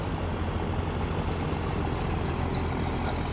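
A truck follows behind on a road off the pavement, a steady low engine rumble and road noise that holds evenly throughout, with no talk.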